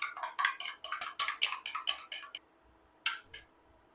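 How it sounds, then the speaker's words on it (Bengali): A fork rapidly beats eggs with a pinch of salt in a bowl, giving a quick run of close, rhythmic clicking taps, a short pause, then two more strokes. "আর দিয়ে দিব সামান্য একটু লবণ ডিমের জন্য। ডিমের সাথে ভালোভাবে ফেটিয়ে নিব।"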